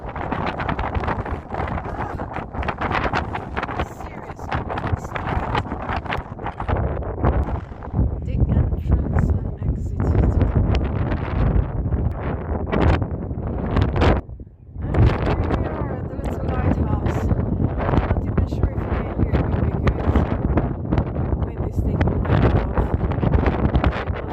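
Strong wind buffets the microphone at Ramsgate harbour, a loud, continuous roaring rumble with gusty swells and one brief lull midway, heard alone without talk.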